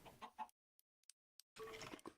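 Chicken clucks from a video game, quiet bursts at the start and end with brief faint blips between and near silence in the gaps.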